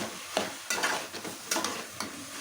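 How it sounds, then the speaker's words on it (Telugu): Ivy gourd masala curry being stirred in a pan, with several distinct scraping strokes about every half second over a constant close frying sizzle and no speech. "ఈ లేత దొండకాయలు బాగా కలుపుకోండి"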